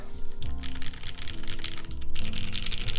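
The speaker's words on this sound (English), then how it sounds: "this keyboard, guys, sounds really good" Typing on an Axiom Studios Typ65+ prototype mechanical keyboard: a steady, dense run of close keystroke clacks that continues throughout at moderate loudness, with no talking over it.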